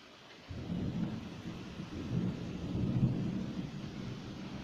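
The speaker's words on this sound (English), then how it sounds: "Here comes the rain." A storm with rain and thunder: a low rumbling roll of thunder rises after a quiet start and keeps grumbling under a steady hiss of rainfall, with no voices.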